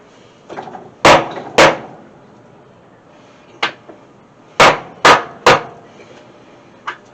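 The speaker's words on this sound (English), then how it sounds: "But I do have my little hammer" A small hammer knocks on the wooden sides of a doghouse being taken apart, with sharp, loud, irregular blows arriving singly and in pairs, close by, with no talking.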